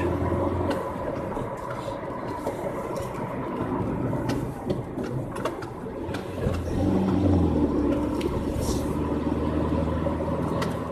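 Steady low rumble of a car driving along a road, heard from inside with continuous tire and engine noise that swells slightly toward the end.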